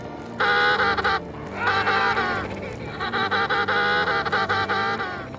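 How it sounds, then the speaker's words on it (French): An emperor penguin mother that has lost her chick calls loudly and close, a harsh honking cry repeated in three long, wavering phrases with brief breaks between them. "Il suffit d'écouter le bruit que fait une mère qui a perdu son poussin."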